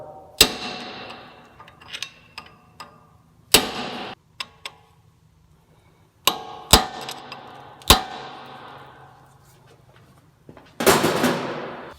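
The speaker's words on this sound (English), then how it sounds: "Once it's torqued properly, go ahead and stake down your locking collar." Hammer staking the locking collar on a Honda Pilot CV axle nut: about six sharp, ringing metal strikes at uneven intervals, close and loud, with faint ticks and clinks between them and no talking.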